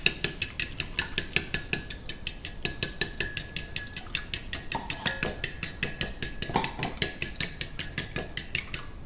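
A whisk clatters quickly and rhythmically against a bowl as eggs and milk are beaten together, a close, steady stream of bright metallic ticks with no talking.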